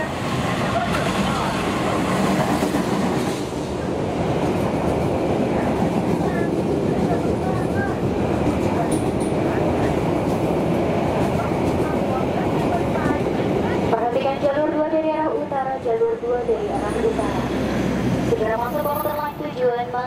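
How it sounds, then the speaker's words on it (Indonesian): A train runs straight through Gondangdia station on track 1 without stopping, a loud sustained rumble and rattle close by, with a station announcement voice over it and brakes or wheels squealing near the end. "Hati-hati jalur 1 kereta api melintas langsung."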